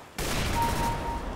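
Rapid gunfire from the video game CS:GO, a dense, loud burst of automatic shots that starts abruptly and rattles on for about a second with no voice over it.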